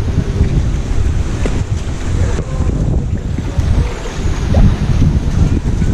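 Wind and water on a stormy beach coast at Fort Walton Beach, Florida, during a night crabbing trip, a loud constant rush of wind buffeting the microphone over rumbling surf, with no clear talk.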